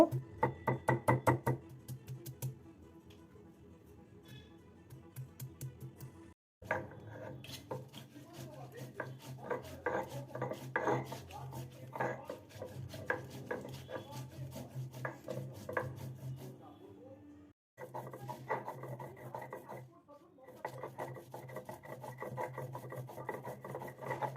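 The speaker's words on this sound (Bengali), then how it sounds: "মৌরি আর আদাটা আমি খুব মিহি করে বেটে নেব" Ginger and fennel seeds are ground into a fine paste with a steady rhythmic rasping and rubbing, scraping strokes repeating close by in short runs separated by brief pauses.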